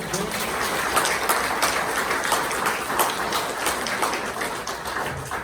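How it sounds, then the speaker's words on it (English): A luncheon crowd claps continuously in a dense, even patter, moderately loud and filling the room, with some background murmur underneath. "a round of applause, please"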